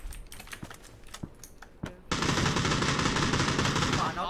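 Rapid automatic gunfire bursts in the battle-royale game PUBG, starting with a few sharp scattered shots and then becoming a dense sustained volley, loud and close.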